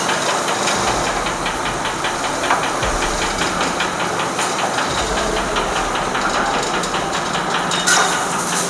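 A paper plate making crank machine building up pressure gives off a steady loud hiss with repeated mechanical knocks and clatter, continuous throughout with a brief louder burst near the end.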